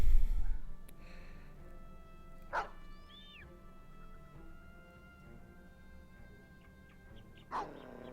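Dogs in the Battle Brothers video game give two short, sharp yelps a few seconds apart, fairly faint, over a quiet low background hum.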